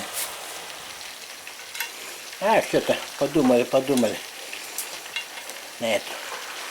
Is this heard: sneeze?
no